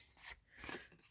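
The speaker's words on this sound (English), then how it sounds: "I think I'm going to get my little scissors out." Small scissors snip through paper ephemera at a junk-journal craft table, two quiet, close crisp cuts in a faint, still room.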